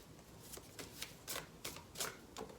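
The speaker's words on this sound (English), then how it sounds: "Let's just pull one more card, please." Oracle cards are shuffled up close in a series of about seven soft riffling bursts, each a short papery flutter spaced roughly every third of a second, with no talking.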